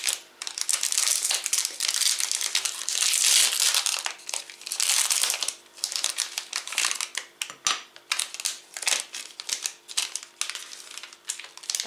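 A Choco Pie wrapper, Lotte or Orion, is torn open and handled, producing loud close crinkling and crackling plastic with bursts of rustle and brief sharp snaps, continuous and with no voices.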